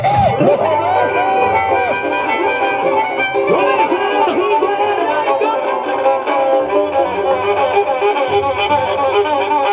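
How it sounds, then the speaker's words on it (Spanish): Loud, dense crowd cheering, whoops and shouting at a scissors dance competition in Huari, continuous across the whole stretch, with tonal, music-like sounds woven through the roar. "¡Los aplausos!"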